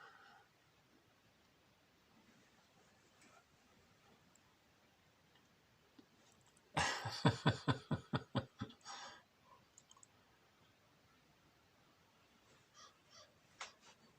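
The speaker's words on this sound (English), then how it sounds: "all the baby crows pay a visit" Several baby crows call in a quick burst of harsh, clicking caws close by, repeated about eight times over a few seconds, with a few fainter caws following later against quiet outdoor background.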